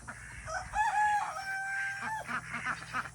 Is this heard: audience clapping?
no